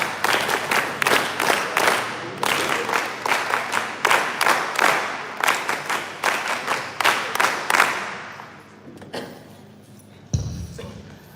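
An NSS crowd gives a patterned rhythmic clap, a burst of sharp group claps in quick beats lasting several seconds before it trails off into scattered noise and a thump.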